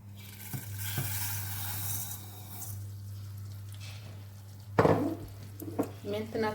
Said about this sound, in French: j'ai pris ma marmite, j'ai mis de l'huile et je vais faire pas caraméliser, mais comme ça frire mes vermicelles